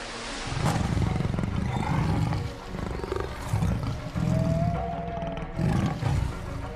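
A tiger roars loudly in an animated jungle story as it leaps into a river. The deep roaring comes in several long, sustained bursts close by, with no talk over it.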